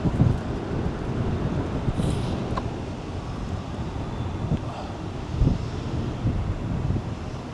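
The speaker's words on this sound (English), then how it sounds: "The wind is pretty strong." Strong wind buffets the microphone outdoors with a constant low rumble and gusty thumps that swell and ease, loud and close, with no other sound clear over it.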